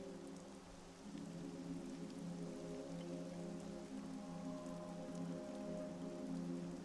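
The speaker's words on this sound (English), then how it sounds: "Look at them walking through the rain casually." Steady rain falls in Castlevania: Lords of Shadow, a soft, even hiss that thickens after the first second, over a low, sustained tonal drone.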